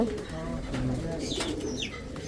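Racing pigeons coo softly in an enclosed breeding loft, low rounded calls repeating under a steady hum, with a few brief higher chirps.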